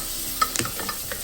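Butter goes into a pot for creamy butternut squash soup, giving a brief scrape and a few soft sizzling and stirring clicks over a quiet background.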